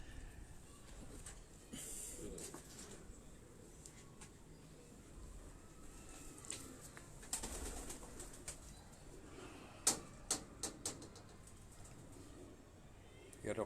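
Pet pigeons on a rooftop in Rawalpindi, soft low cooing and occasional wing flutters under someone talking in Hindi-Urdu, with a few sharper knocks near the end.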